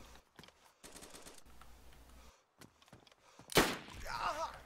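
Gunfire in a first-person shooter game, with short bursts of rapid shots and a sharp loud crack near the end, over a quiet, sparse background.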